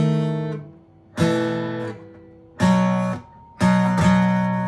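Acoustic guitar strums a worship-song chord progression from Surrounded By Holy, four ringing chords struck one after another, each left to sustain and fade, close and clear with no voice.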